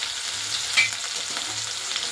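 Crushed garlic, ginger and onion sizzle in hot oil for a chicken fry, a steady close hiss with one brief clink of a utensil partway through.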